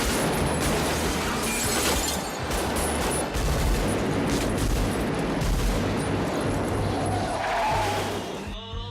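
Gunfire from a movie soundtrack, dense and loud, with rapid overlapping shots and crashes forming a continuous barrage for several seconds.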